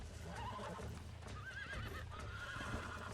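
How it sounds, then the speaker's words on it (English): A horse in the Red Dead Redemption video game whinnies repeatedly while being broken in, shrill wavering neighs over a busy game soundscape of hoof clops and rustle, no talking. "Horse breaking is definitely a bit easier in this game than in the other"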